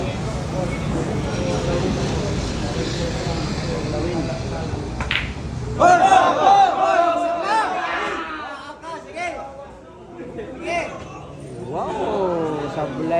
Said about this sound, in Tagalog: Yung crowd natin malaga, sumisigaw po yung crowd natin